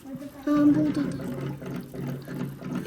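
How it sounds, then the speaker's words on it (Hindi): Hot water poured into a cup of instant noodles, a soft trickling, gurgling fill lasting a couple of seconds, close by and partly under people talking. "इसके अंदर हमने पानी डालना है गरम।"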